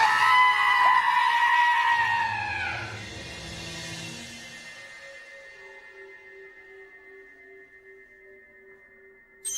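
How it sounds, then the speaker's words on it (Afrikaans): A long, loud, bloodcurdling scream of pain rises and then fades slowly into a thin trailing tone, heard alone without talk. "Het jy daai bloedstollende gil gehoor?"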